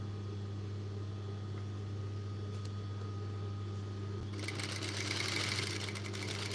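A sewing machine stitching fabric runs with a steady close hum and rapid mechanical chatter, growing brighter and busier toward the end.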